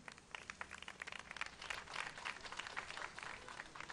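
An outdoor crowd on the esplanade of Abidjan's city hall district claps at a launch ceremony, a faint, distant patter of applause rising and falling without speech.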